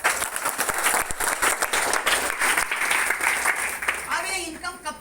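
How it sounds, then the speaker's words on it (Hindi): An audience at a talk about business versus jobs claps loudly in a dense burst of applause that fades, then a voice briefly speaks at the end. "रिएक्शन स्कूल के लिए ताली हो सकता।"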